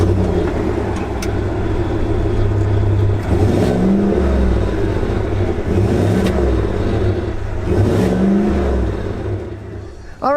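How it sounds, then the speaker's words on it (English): A GMC Yukon SUV's deep, throaty engine rumbles loudly and steadily through a quad exhaust, swelling with a few revving surges, with the exhaust burbling throughout. "It's technically a quad exhaust, and it sounds divine."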